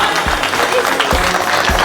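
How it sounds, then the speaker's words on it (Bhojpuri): An audience at a live cooking contest event gives a short, loud round of applause, dense and close. "एक बार जोरदार तालियां"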